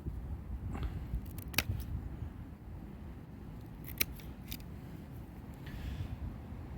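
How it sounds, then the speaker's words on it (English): Secateurs snip through a pencil-thick piece of pruned grapevine, a few sharp, isolated clicks spaced seconds apart over a quiet outdoor hum. "I cut it with an angled bit at the top so I know which way up it's got to go"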